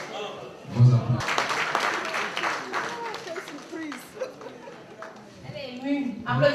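Applause from the audience at a school gala evening at a Cameroonian lycée, a broad patter of clapping mixed with crowd chatter and a speaking voice over it.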